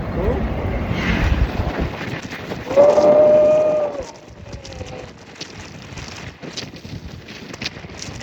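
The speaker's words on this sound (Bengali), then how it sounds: "এত পরিমাণ বাতাস!" Strong wind buffets the microphone on a seaside hill overlooking the Cox's Bazar beach, a steady rushing roar that runs throughout, with people talking and a brief tonal whine near the middle.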